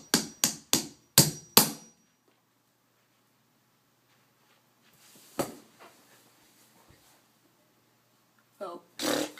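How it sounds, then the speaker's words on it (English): Five sharp hammer blows in quick succession drive a piece into a 3x3 Rubik's cube being spray-lubed, then a long quiet stretch with a single knock and a final pair of taps. "When I hammered the piece in, a piece of the cube came off it."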